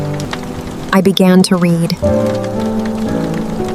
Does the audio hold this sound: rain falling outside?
yes